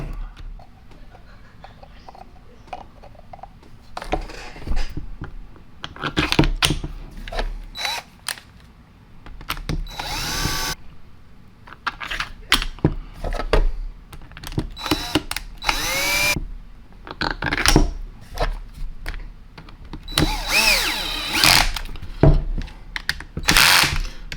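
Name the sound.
power tool tightening bolts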